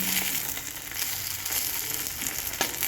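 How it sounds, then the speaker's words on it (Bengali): Green plantain slices fry in hot oil with a steady, dense sizzle that crackles evenly throughout, close and moderately loud, with no voices. "কাঁচকলা ভাজা কিন্তু অপূর্ব স্বাদের হবে আর খেতে কিন্তু খুবই ভালো লাগবে"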